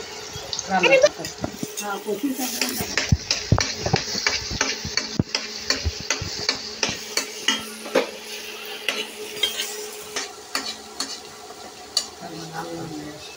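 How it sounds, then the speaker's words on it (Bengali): Lightly crushed onion and garlic fry in hot oil during a village-style kochu shak recipe, giving a steady close sizzle broken by a rhythmic run of stirring scrapes and clinks. "এখন এটাকে আমি হচ্ছে তেলের উপর দিব।"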